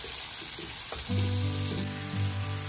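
Chopped vegetables with bell pepper sizzle and fry in a pan, a soft steady crackle with brief scraping as the mix is stirred, close and alone.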